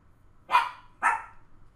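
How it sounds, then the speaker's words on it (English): A dog gives two sharp barks about half a second apart, fairly close and clear against a quiet room with no talking. "I don't know why my dog is barking."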